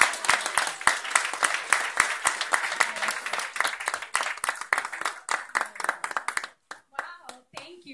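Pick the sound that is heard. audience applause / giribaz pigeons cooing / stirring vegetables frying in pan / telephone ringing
audience applause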